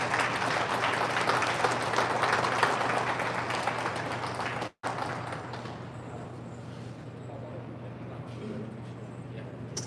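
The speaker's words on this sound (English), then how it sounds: "a big round of applause for his dedication and commitment" A crowd at a civic ceremony in Fresno gives a big round of applause. Dense, steady clapping fills the first half, breaks off abruptly, then resumes more quietly and thins out.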